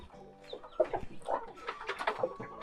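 Chickens clucking and a rooster crowing in a farmyard, several short bird calls overlapping against a steady background hum.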